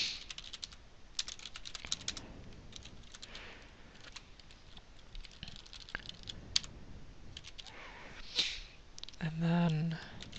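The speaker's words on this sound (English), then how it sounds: "So I'm just going to type up some OpenGL right now." Fingers type on a computer keyboard while coding, a steady patter of quiet close clicks with uneven spacing through the whole stretch, ending in a slightly louder flurry.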